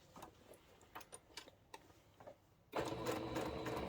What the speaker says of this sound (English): head over to the sewing machine and stitch 1/4 inch seam allowance